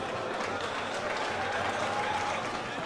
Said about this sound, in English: the fans are applauding this performance now